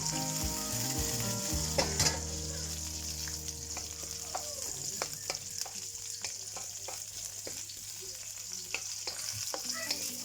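Onions sizzle steadily in a pan over reduced heat, a constant close frying hiss with scattered stirring taps and scrapes, alongside a low continuous hum.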